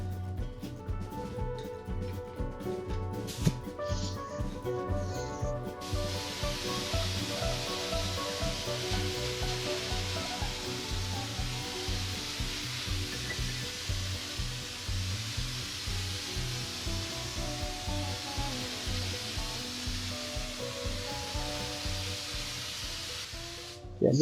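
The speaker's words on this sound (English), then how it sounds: "just spraying half of this so we can lay down half of it" Spray adhesive hisses onto headliner padding in a classic VW, a long steady near spray with slight pulsing bursts, and music plays faintly in the background.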